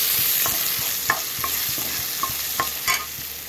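Onions sizzle and crackle steadily in a frying pan on the stove, with a few sharp scraping stirs from a spatula. No one speaks.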